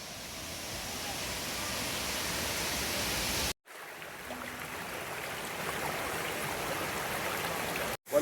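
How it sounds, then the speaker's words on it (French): Water cascades steadily at Lagan Falls on Siquijor Island in the Philippines, a close, broad rushing roar that cuts out briefly twice before resuming at full strength. "là en train de grimper dans les cascades, c'est très sympa."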